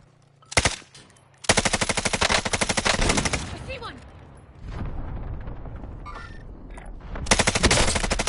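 Gunfire in the video game Call of Duty Warzone: a short burst, then long rapid automatic volleys, a quieter stretch of scattered shots, and a final loud burst, all close and loud.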